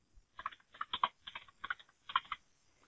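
Quick bursts of keystrokes on a computer keyboard, about six clustered clicks in under three seconds, close and crisp in a quiet room with no talk.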